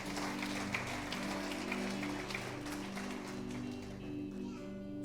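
Congregation at a Spanish-language church service applauding, a steady wash of clapping from many hands under sustained background music, with some voices mixed in.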